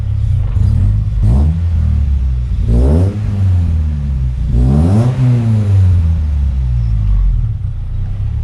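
A Ford Sierra engine runs with its fuel pump driven through the ECU, idling as a loud, close rumble with several rising and falling revs blipped over it, with no voices.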